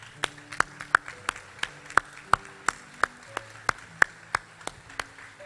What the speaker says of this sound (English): keep that applause going for all our middle school award winners.